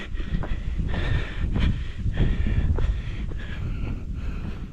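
Gusty wind on a mountain slope near the summit buffets the microphone in loud, uneven rumbling bursts, with a hissy airy roar over the top and no speech.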